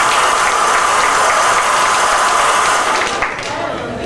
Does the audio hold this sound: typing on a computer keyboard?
no